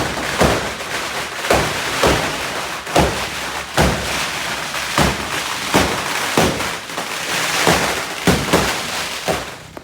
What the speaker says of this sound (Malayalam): ഞങ്ങൾ കുറച്ച് നേരം പടക്കം പൊടുന്നതൊക്കെ കണ്ട്